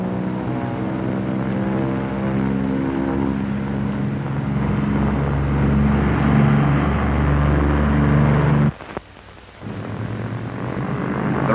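Lockheed P-38 twin-engine propeller fighter on its takeoff run with the right engine cut: loud, steady droning engine roar with strong tonal hum, a sudden dip as power drops, then the roar builds back up.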